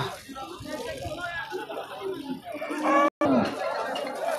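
A barren cow lowing at a livestock market in Sariosiyo, Surkhandarya, amid people chattering nearby, with busy crowd noise and a brief dropout near the end.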